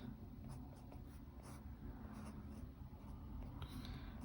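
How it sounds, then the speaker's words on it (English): Fine nib pen scratching across paper while sketching, small close strokes in an irregular rhythm over a low steady room hum, with no talking. "I want to go with a finer nib pen for the"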